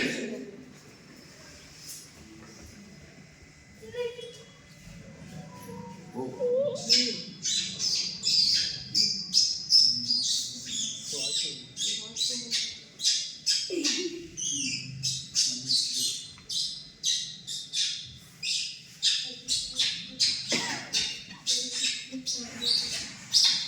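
A voice imitates a sparrow's chirping for children, building into a long run of quick, bright, close chirps repeated in a steady rhythm, loud and lively.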